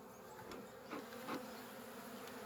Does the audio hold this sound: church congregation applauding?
no